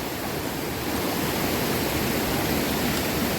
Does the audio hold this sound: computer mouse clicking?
no